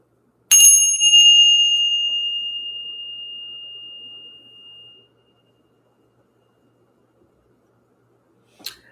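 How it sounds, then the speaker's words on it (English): A small bell is struck once and rings out clear and loud, its pure metallic tone slowly fading over several seconds, followed by quiet and a faint short tap near the end. "Let's ring the bell."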